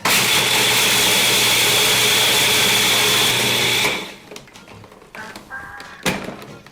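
A blender pulses vegan gluten-free pizza dough ingredients with flax, a loud steady motor whir for about four seconds that then cuts off, leaving faint clinks and handling noises.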